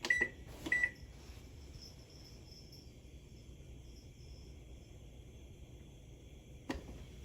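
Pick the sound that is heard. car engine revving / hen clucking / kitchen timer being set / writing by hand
kitchen timer being set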